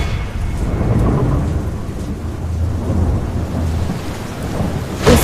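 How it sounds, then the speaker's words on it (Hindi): Thunderstorm with torrential rain over a village, a heavy continuous roar of downpour and low rumbling thunder that swells and eases, close and loud with no voices. "उसी रात मूसलाधार बारिश के बीच"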